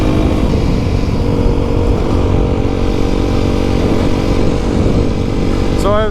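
Aprilia SX125 motorcycle engine droning steadily and loudly throughout with a rising rev as gears are shifted, sounding close with continuous wind and road noise.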